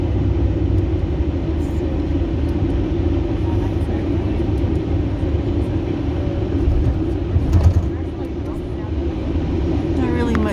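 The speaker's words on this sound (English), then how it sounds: "we're on the bus on the way to Carlin" A bus engine drones steadily inside the cabin on the road to Carlin, Nevada, a constant low rumble filling the whole stretch, with a voice speaking over it.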